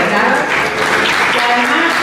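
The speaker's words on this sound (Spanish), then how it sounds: "Un aplauso para la agencia" Audience applause at a theatre and literature gathering, steady and dense for about two seconds, with speech mixed in beneath the clapping.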